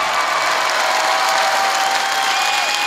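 Dense, steady applause from a comedy club audience, continuous and loud throughout with no breaks or talk.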